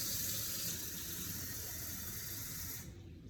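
Warm water for feeding a sourdough starter pours in a steady close hiss that runs for about three seconds and then stops abruptly, with no talk.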